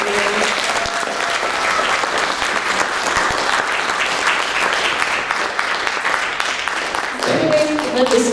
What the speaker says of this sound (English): I think the seniors deserve a round of applause for all that good work.